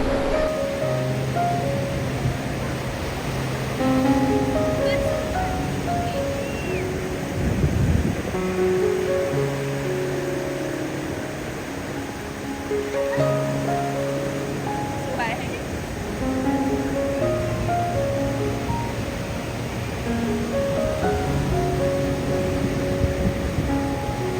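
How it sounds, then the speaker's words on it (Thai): Evening sea waves roll in at Mae Phim beach, a steady wash of surf that stays mostly under continuous talking voices for the whole stretch. "อยากพาทุกคนชมบรรยากาศยามเย็นของท้องทะเลนะคะ"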